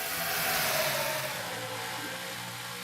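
Race cars accelerate on a green-flag restart at the Auto Club 400, a dense blend of engines rising and droning together at a distance with no speech.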